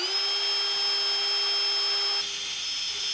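A power drill with a 1/4 inch bit whines steadily at close range for about two seconds, drilling into drywall, then cuts off, leaving faint room noise.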